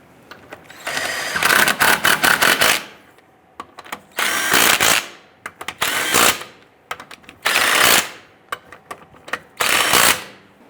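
A power tool whirs in several short bursts, about four or five spaced runs, snugging down lug nuts on a rear wheel of a 2005-2010 Chrysler 300, loud and close with brief ratcheting pauses between.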